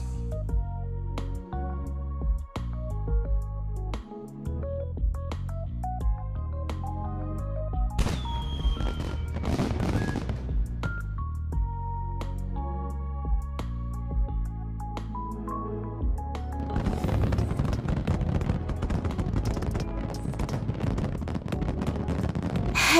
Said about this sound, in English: we'll commence this evening's grand occasion with a fireworks show